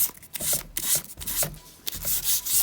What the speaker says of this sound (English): Use a little bit of sandpaper